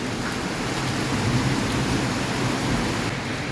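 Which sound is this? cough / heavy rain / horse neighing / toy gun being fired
heavy rain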